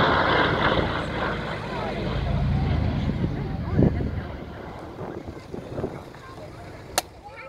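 A Douglas C-47 flies round at the Headcorn airshow in Kent, giving a steady low droning rumble that is partly buried under heavy wind buffeting on the microphone, with faint voices in the background.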